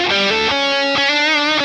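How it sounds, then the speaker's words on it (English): An electric guitar in humbucking mode, played through a Danelectro Cool Cat distortion pedal: loud, sustained, heavily distorted chords with rich harmonics, changing pitch a few times over a short phrase. "I reckon it's a great sounding distortion pedal."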